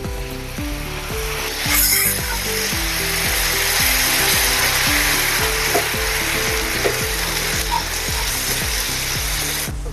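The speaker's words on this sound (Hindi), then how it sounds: "टमाटर को भी हम थोड़ी देर भूनेंगे।" Tomato puree frying with spices in a pan for a dahi malai matar curry, a steady loud sizzle with rhythmic stirring scrapes running throughout, no talking.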